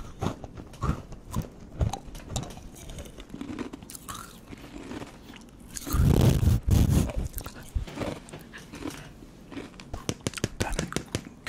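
Someone bites and chews a snack with a crispy shell and a jelly-like centre, giving repeated close crunches and wet chewing with a louder burst in the middle, and a bit of talk mixed in.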